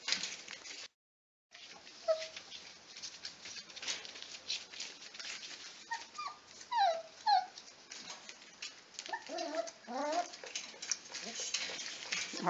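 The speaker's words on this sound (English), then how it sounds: "Here's puppies trying to get a meal." Puppies whimper and yip in soft, high squeaks as they jostle to feed, faint and close, scattered through a quiet room with a brief dropout and a voice talking.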